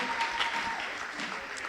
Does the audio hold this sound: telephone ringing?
no